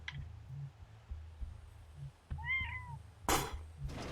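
A pet cat gives a single short meow, rising then falling, close by in a quiet room over a low steady rhythmic hum, with a brief burst of noise just after.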